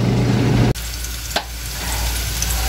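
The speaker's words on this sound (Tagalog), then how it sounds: "Sinalang na po natin yung ating mga rekado dito sa ating gigisahing bagoong isda" Spices and aromatics for bagoong isda fish paste sauté in a hot pan, a steady close sizzle with a brief clatter partway through, no voices.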